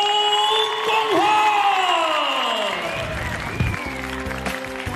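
Crowd at a Wu Lin Feng kickboxing event in Auckland, New Zealand, applauds and cheers to welcome a heavyweight fighter, a sustained wash of noise under a loud, tonal music or announcer bed.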